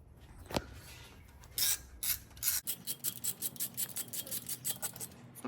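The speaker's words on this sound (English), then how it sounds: "Once I tighten these four a little bit, you're going to see the whole valve cover start going down." Nuts being tightened onto a Honda B series valve cover, heard as a quick series of dry ratcheting clicks in a steady rhythm, close and fairly quiet, after a few scattered metallic knocks.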